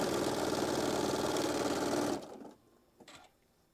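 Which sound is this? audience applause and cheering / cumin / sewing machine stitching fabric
sewing machine stitching fabric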